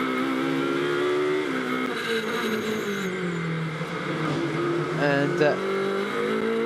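Rinaldi Ferrari 333 GT race car sweeps through a long left-hander, its engine note rising and falling steadily under continuous commentary, with another car closing in behind.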